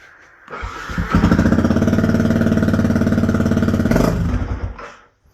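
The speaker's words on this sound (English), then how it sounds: "now that the bike has run for a little while" A Yamaha WR125R motorcycle engine starts, idles steadily and loudly up close for a few seconds, then shuts off and falls quiet.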